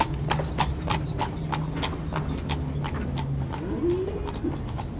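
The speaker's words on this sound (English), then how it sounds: "Here comes one of the cattle buyers in his horse and cart." Horse and cart at the Chicago stockyards, recorded as a circa-1956 stereo demonstration: steady clip-clop of hooves on hard ground with faint bird coos and cart rumble beneath, moderately close and continuous.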